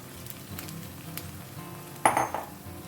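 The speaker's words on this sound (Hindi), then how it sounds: "तो अब इसमें डालते हैं स्क्विड्स" Squid (calamari) hitting a hot pan while cooking Goan-style squid chilli, a sudden loud sizzle bursting in near the end after quiet pan clinks and low background.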